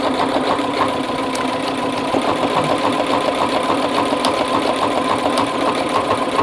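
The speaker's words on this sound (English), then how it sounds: "I just push the pedal and it'll automatically make this buttonhole for me" Sewing machine running steadily while automatically stitching a buttonhole on a fabric mask, a loud, even, fast mechanical whir with rhythmic needle clatter throughout.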